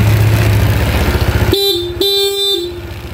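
A motorcycle engine idles with a rapid putter, then its horn blares twice in steady beeps close by, the second held longer.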